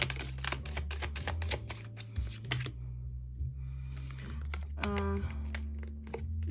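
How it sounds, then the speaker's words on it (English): A new deck of tarot cards being shuffled, stiff cards that stick together, giving a run of close, dense riffling and flicking rattles with a brief pause midway and low background hum. "so just gonna try to shuffle them a little more"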